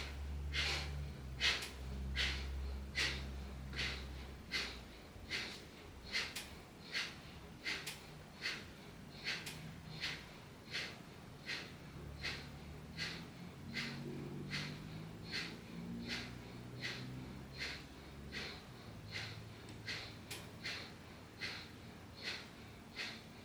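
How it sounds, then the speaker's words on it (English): Kapalabhati yoga breathing: a long, steady series of sharp, forceful nasal exhalations, evenly paced at roughly one per second, with soft background music beneath. "prepare for our second round of Kapalabhati breathing, a little longer than the first"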